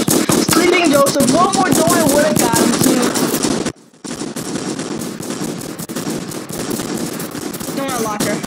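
Rapid, repeated bursts of donut-launcher fire in the Food Fight video game, a loud rattling barrage that stops abruptly for a moment, then resumes more softly, with lively voices chattering over it throughout.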